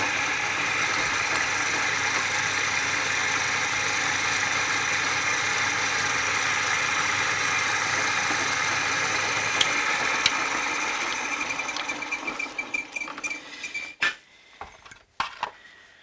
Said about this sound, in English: next I'm going to take a center point drill here